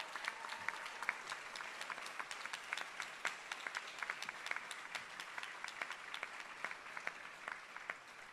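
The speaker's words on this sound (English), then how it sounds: "So I want to give another round of applause for the Assange family," A large audience at a labor-justice panel gives a sustained round of applause, dense steady clapping throughout, moderately distant and fairly quiet, with no talk over it.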